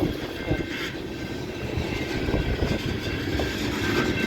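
Union Pacific manifest freight train rolling past a crossing on a rainy day, a steady loud rumble of wheels and cars with rhythmic clatter over the rails, continuous and close throughout.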